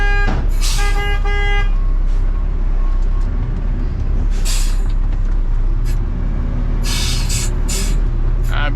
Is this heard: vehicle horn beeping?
yes